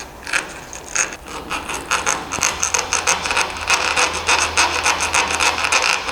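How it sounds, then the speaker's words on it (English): A hand file scrapes across the edge of a hard piston ring near its gap in quick, repeated rasping strokes, close and fairly loud, with no talking. "So you just take the file, put the ring as close to the gap, to the edge as possible, and try and file down."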